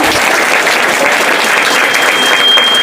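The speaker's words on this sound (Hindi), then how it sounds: "खूब जोरदार तालियों से एक दूसरे को भी बधाई दे" An audience at a Shiv Jayanti programme held by a Brahmakumaris centre bursts into loud, steady applause, a dense wash of many hands clapping close by for about three seconds.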